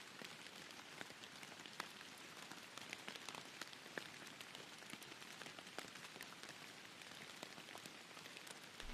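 Steady rain falls on leaves in dense woods, a continuous hiss of countless small patters with scattered sharper drops, moderately loud, even and close, with no voices.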